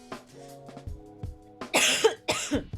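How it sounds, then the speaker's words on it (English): A couple of harsh, close coughs in quick succession after some quiet background tones. "So sorry for all the coughing."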